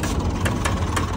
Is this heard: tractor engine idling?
yes